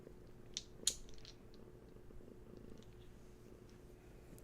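A cat purrs softly in a low, steady rumble, with a couple of small clicks and rustles near the start.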